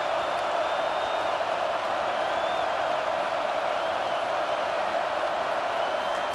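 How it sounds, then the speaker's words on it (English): A stadium crowd in the video game College Football 25 roars in a steady, dense wash of cheering on third down, loud and continuous, with faint whistling whoops on top. "Decibels rising as the crowd gets behind this defense on 3rd down."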